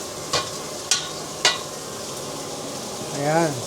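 Pork meat for afritada goes into a hot pan in a home kitchen, raising a steady close sizzle marked by three sharp clicks of utensils, and a brief voice speaks near the end.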